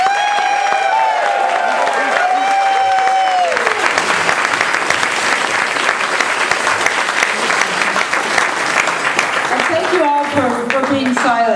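A big crowd at a humorous speech contest applauds loudly, with cheers and shouts rising over continuous clapping. A voice speaks over the start, and voices break through again near the end.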